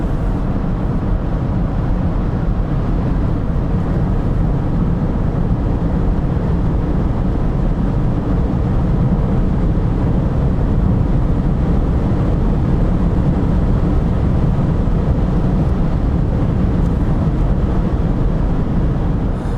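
Steady broadband road and wind noise inside a Mercedes CLA EQ electric car cruising on a highway, a constant rushing roar with no speech.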